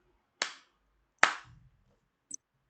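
Two sharp hand claps about a second apart ring out in a quiet room during a teacher-training session, followed by a faint, short tap.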